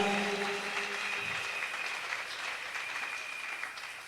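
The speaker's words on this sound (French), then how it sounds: "Ajoutez à cela les acclamations encore pour les encourager." Church congregation applauding and cheering for performers at a closing revival service, a steady wash of clapping that fills the clip at moderate volume after a voice trails off at the start.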